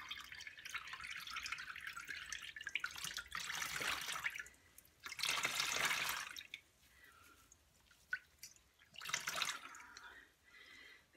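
Water drips and splashes as a freshly overdyed, formerly bright green weaving warp is wrung out by hand, coming in several irregular wet bursts of trickling and spattering, fairly close, with quieter gaps between them and no talk.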